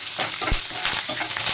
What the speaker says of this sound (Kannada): ಇದಕ್ಕೆ ಬೇಸೊಪ್ಪು 5-6 ಹಸಿಮೆಣಸು ಹಾಕುವ